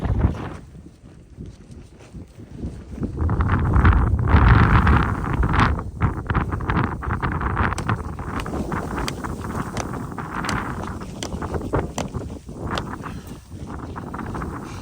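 Wind gusts over a beach camp near a kayak landing on the coast between Moonta Bay and Cape Elizabeth, rumbling and buffeting the microphone with uneven surges throughout.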